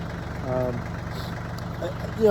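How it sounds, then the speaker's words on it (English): A tractor engine idles with a steady low throb while field fence is being stretched, running continuously beneath a voice that speaks over it. "I use my tractor, use that bar."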